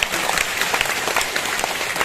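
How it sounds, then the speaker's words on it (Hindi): An audience at a Brahma Kumaris spiritual class bursts into steady, dense clapping, a continuous roomful of hands applauding at fairly close range without a break. "अपने लिए ताली बजाओ।"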